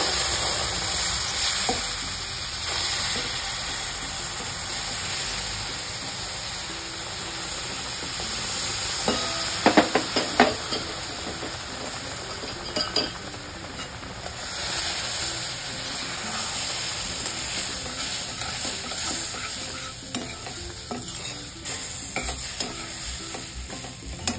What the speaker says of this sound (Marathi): त्याच्यात उकळतं दूध घालायचं।